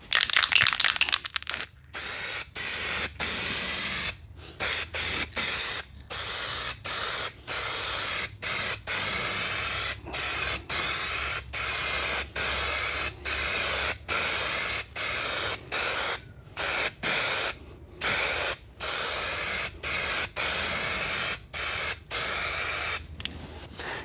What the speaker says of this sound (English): so now I'll get to spraying.